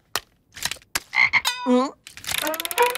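A cartoon frog croaking, with several loud, clear croaks in quick succession, set among other short cartoon sound effects.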